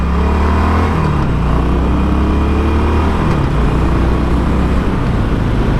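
A 2018 Harley-Davidson 48 1200 Sportster motorcycle accelerates up close, its loud engine rumble rising steadily through the gears with a continuous throaty roar and no talking.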